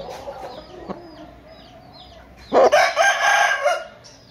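An Aseel rooster at a poultry market crows loudly once, close by, after a few seconds of quiet background with faint bird chirps.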